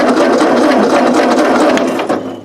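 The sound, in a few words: Ford 8N tractor engine starting and running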